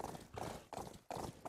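Rhythmic hoofbeats in a quick, repeating pattern, four heavy strikes in a row, like a horse galloping close by, in the video game Rust.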